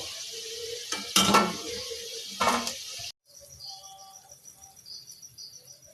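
Fried chowmein pakoras are lifted one by one out of a pan of hot oil: two clanking utensil scrapes over steady sizzling, then a quieter, thinner fry hiss.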